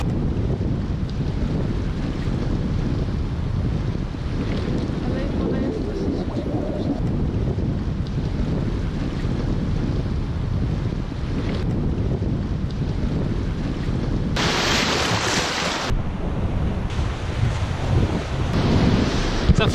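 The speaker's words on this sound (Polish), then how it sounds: "Jesteśmy nad Morzem Czarnym." Waves breaking on the Black Sea shore under strong wind, a continuous roar of surf and gusts buffeting the microphone, loud and close, with brief bursts of harsher wind noise.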